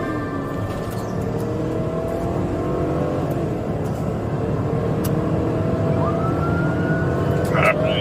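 A suspect car speeds away from a police traffic stop, its engine roaring under a steady wash of road and cabin noise, while radio chatter and faint siren-like tones sit in the background.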